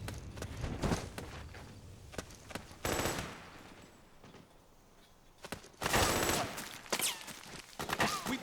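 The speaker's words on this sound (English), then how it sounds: "Suppressing fire!" Gunfire in Metal Gear Solid 4: loud bursts of rapid automatic fire come in several clusters, separated by quieter stretches with scattered single shots and faint footsteps.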